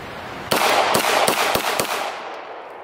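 Beretta 92S pistol firing Blazer aluminum-case ammunition outdoors: five sharp shots in quick, slightly uneven succession, loud and close, each with a short ringing tail, and no speech.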